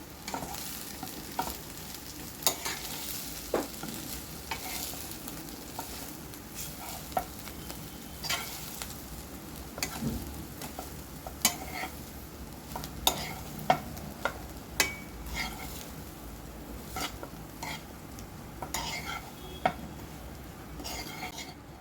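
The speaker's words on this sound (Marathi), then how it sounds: "आता भात फिरवून घ्या" Jeera rice with cumin and coriander being stirred in a pan, a steady soft scraping with frequent light clinks of a spoon against the metal, close and alone with no voices.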